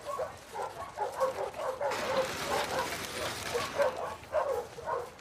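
Dog barking and yipping in the video game The Last of Us Part II, a run of short excitable barks and whimpers repeating throughout at moderate distance, with no talk over it.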